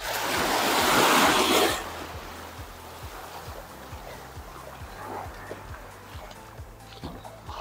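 Sea waves wash over a flooded shore path at Padmagad fort in Malvan. A loud surging wash opens the clip, then eases to a steady lower water noise with wind and a faint rhythmic low thumping beneath.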